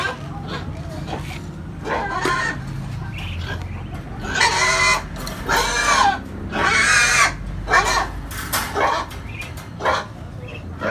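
Chickens cluck and squawk in bursts, fairly close, with some livestock noise and a voice or two mixed in among them.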